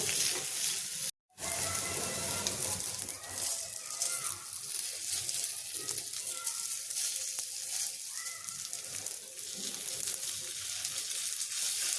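Crispy poha snack sizzling in a pan with just a little oil and being turned over, giving a steady close frying hiss with faint scraping stirs and one brief dropout near the start.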